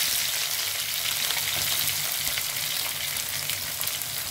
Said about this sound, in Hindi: अब इसमें ऐड करेंगे हम प्याज।